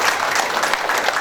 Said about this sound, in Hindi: आप सबके लीडर देवदत्ता मोहंती सर जी के लिए एक बार जबरदस्त ताली होगी